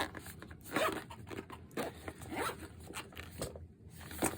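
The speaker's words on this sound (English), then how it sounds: "Zip it up." A zipper on a small plastic sleeve is pulled closed in several quick, close rasping strokes with brief pauses, alone and fairly quiet.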